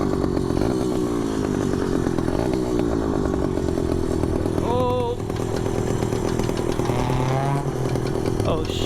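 A motorized bicycle's small two-stroke engine runs loud and close while being ridden, a constant raspy, chainsaw-like drone with slight pitch shifts, and a voice faintly under it at times.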